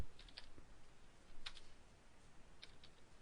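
A few sparse, faint key taps on a computer keyboard, spaced about a second apart over a steady low hiss, with no talking.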